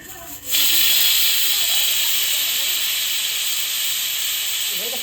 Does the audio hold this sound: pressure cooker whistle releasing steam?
yes